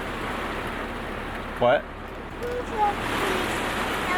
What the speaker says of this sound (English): Do you want to get out in this rain?